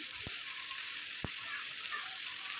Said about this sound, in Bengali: তেলের মধ্যে আমি আলু দিলাম পেঁয়াজ দিলাম